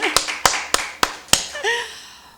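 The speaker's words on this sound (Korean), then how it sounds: "우리 하나님께만 찬양하고 영광의 박수 올려드립니다" A few sharp claps, five evenly spaced in a slow rhythm, ring out in a church Sunday worship service, followed by a brief voice; only a handful of distinct claps rather than full congregational applause.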